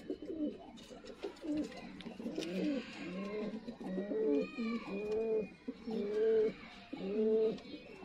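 Sialkoti pigeons coo steadily in a close, continuous series of soft, rolling calls, with occasional faint chirps and background noise.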